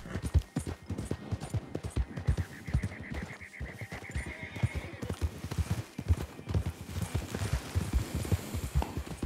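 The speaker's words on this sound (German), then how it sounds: "Ich höre da dein Getrappel." Horse hooves gallop in the video game Red Dead Redemption II with a steady, fast clip-clop rhythm, near and fairly loud, while a faint tonal whine runs through part of it.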